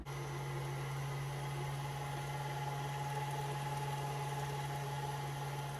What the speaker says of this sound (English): now we turn our mixer on